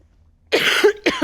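A close, loud cough in two harsh bursts, the first longer, after a moment of silence.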